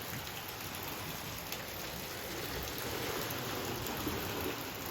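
Steady rain falls and patters on surfaces at a beach house in the Philippines, a continuous hiss with scattered drops, fairly close and unbroken.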